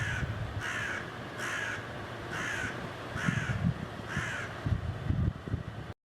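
A crow caws in a steady run of about six harsh, evenly spaced calls, clear and fairly close over faint background rumble.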